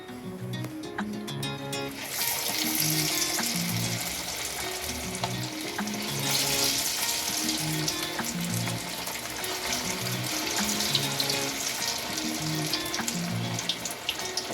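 Chicken pakoras dipped in egg gravy batter frying in hot oil, a dense continuous crackling sizzle that swells as pieces go in, close and steady with no talk.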